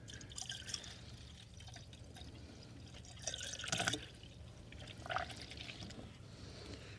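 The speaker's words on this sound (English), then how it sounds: "let's put a little bit of coolant down there and see where it goes." Coolant is poured into the engine bay of a 2004 Subaru WRX wagon, faint trickling and dripping with a couple of louder splashy pours, close and quiet against low background hum.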